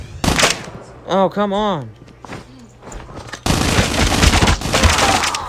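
SMG gunfire in the mobile shooter Call of Duty Mobile: a sharp burst opens, then a voice speaks briefly before sustained rapid automatic fire crackles loudly to the end.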